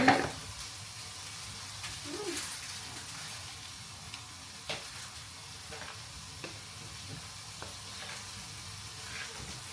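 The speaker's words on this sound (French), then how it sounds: "je vais le mélanger avec mes légumes" Cooled tabbouleh being stirred together with chopped vegetables in a bowl, giving soft, moist scraping and clicking mixing sounds at close range, with a few sharper utensil taps scattered throughout and no voices.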